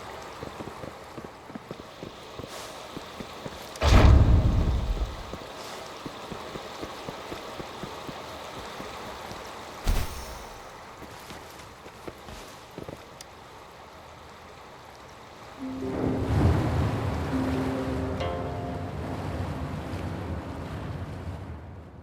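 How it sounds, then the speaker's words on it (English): Water drains away as the level drops in the Wuthering Waves video game, with a couple of brief splashing bursts early on and then a loud, steady rushing wash that lasts through the end. No one speaks. "The water level just dropped again."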